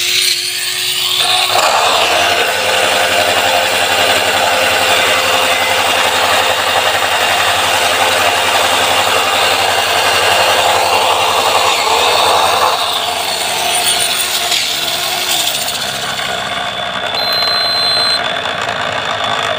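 A mini 4WD SFM chassis gearbox motor runs on a test bench on a partly used battery, a steady, loud high-pitched whine with bright tonal lines that holds for the whole stretch, wavering slightly in pitch, with no voices.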